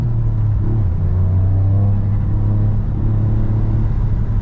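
Toyota GR Yaris on TS Takata Circuit, fitted with new rims and tires, its engine droning loud and close inside the cabin with a steady rumble and slight swells in pitch, no voices.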